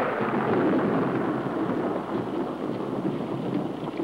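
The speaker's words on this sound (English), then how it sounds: "It's raining cats and dogs." Heavy rain pours down in a dense, steady roar with a deep rumble underneath, loud and continuous throughout with no voices.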